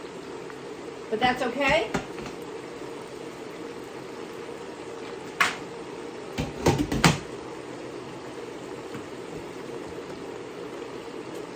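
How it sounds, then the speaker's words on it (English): Rinsed broccoli rabe dropping into a preheated pan of hot olive oil sends out two short bursts of crackling, sputtering splatter over a steady background hum, with a person talking briefly in between. "My olive oil is hot. It's going to make a big splatter because oil and water do not go."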